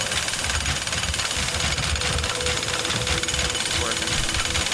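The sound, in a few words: jackhammer breaking structure in the video game Teardown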